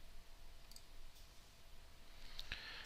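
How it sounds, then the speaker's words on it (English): A single computer mouse click on a link, sharp and close, over faint room noise. "So go ahead and click on that link"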